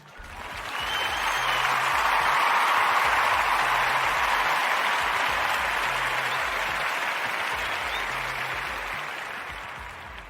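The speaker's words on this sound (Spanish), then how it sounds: "Ya saben que nos aventamos nuestros aplausos porque nos estamos aguantando aquí." A seated audience applauds during a Spanish-language talk on manhood, a dense, steady wash of clapping that swells in, holds loud for several seconds and tapers slowly away.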